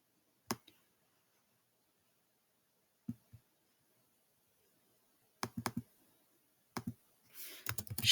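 Sparse, sharp computer mouse clicks during a reading lesson, arriving singly and in quick pairs or triples with long silent gaps between them, close and crisp, followed by a brief rustling noise at the end.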